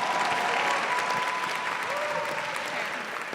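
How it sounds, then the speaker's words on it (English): Steady audience applause fills a high school event hall, a dense continuous wash of many hands clapping that holds at full strength and eases slightly near the end. "Give a round of applause for All One"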